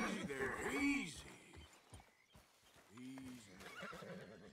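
A horse in Red Dead Redemption 2 whinnies loudly, then neighs again a few seconds later, with hoof clops and a voice talking softly in between.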